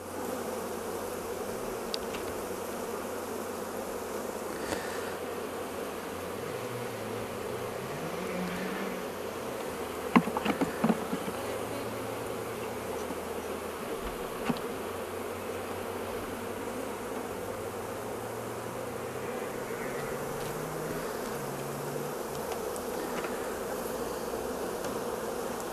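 Honeybees at an apiary hive hum in a steady, dense swarm drone that continues throughout, close to the listener, with a few faint knocks and taps mixed in.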